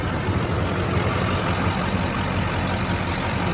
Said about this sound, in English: It's that Duramax diesel that you're hearing now.